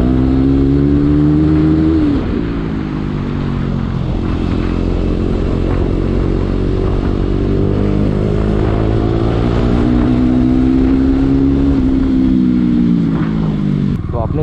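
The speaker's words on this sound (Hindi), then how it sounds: "तो आपने देखा हमने बाइक को भगाया है थोड़ा सा" KTM Duke 250 motorcycle fitted with NOS octane booster, its engine droning loud and close with rising and falling pitch as it accelerates steadily through gears, with a strong wind-buffeting rush throughout.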